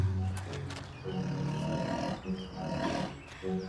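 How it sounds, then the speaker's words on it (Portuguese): Lion cubs in a dinosaur park video game give a string of short, growling roars and grunts, close and fairly loud, in uneven bursts with brief gaps between them. "Filhotes de leão fofinhos."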